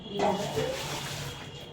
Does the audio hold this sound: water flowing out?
yes